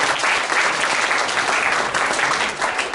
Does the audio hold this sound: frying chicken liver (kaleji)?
no